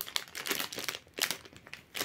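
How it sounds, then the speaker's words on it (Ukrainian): A plastic bag of Lego Sonic set pieces is crinkled and torn open close up, giving sharp, uneven crackling bursts separated by brief quieter gaps. "Давайте почнемо все-таки з першого пакета."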